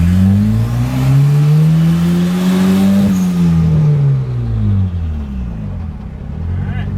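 Boosted F23 engine in a Honda Accord revs loudly while driving, a steady rising drone that climbs for a few seconds, peaks and then falls away as the throttle eases, with cabin rumble throughout.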